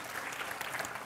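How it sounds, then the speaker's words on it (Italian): A packed theatre audience at a dance recital applauds, dense steady clapping from many hands filling the hall. "Faccio io un applauso a voi perché è bellissimo."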